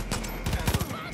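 Rapid bursts of automatic gunfire in the video game Far Cry New Dawn, a quick series of punchy shots rattling over about a second, with a voice talking over them.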